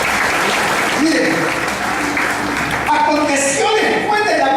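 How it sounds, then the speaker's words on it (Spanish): A church congregation applauds at a service, loud sustained clapping that swells and carries on for several seconds, with voices and cheers mixed into the crowd noise. "Denle un aplauso, iglesia"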